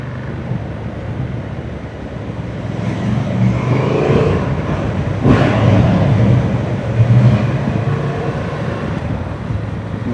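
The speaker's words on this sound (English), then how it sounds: "Really decent sounding exhaust for a stock pipe." A 2025 Honda Transalp 750 adventure motorcycle on its stock exhaust, heard while riding: a steady, fairly loud engine drone mixed with rushing wind noise that swells slightly midway, with no talking.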